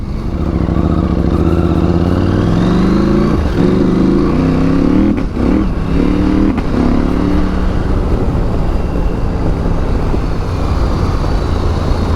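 A Husqvarna Norden 901 adventure motorcycle with WP Pro suspension roars loudly and continuously while riding, its engine note rising and falling through gear changes under steady wind rush.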